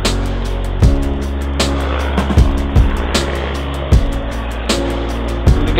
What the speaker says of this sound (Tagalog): Bilis ng motor dito.